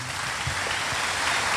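Audience applause at a church youth gathering, a dense steady wash of clapping filling the whole moment at even loudness.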